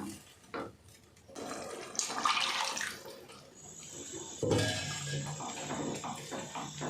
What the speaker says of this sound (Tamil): அந்த நம்ம அந்த மிக்ஸி ஜாரை கழுவி அதில் வந்து சேர்த்துக்கலாம்